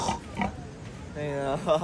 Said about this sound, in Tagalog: Ang laki ng baboy, oh.